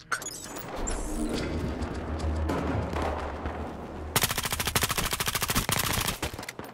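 A gun emptying a full magazine in a Battlefield Hardline team deathmatch on the Derailed map, heard as a long run of fast, loud automatic shots over busy game ambience and earlier distant firing.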